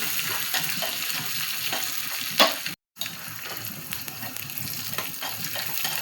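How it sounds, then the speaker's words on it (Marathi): Curry leaves sizzle and crackle in hot oil, tempering for a soft, spongy dhokla, a continuous close frying hiss with a brief cut in the middle before the sizzling resumes. "व कढीपत्ता टाकून घ्यायचा. हे चांगलं कडकडीत परतून घ्यायचे."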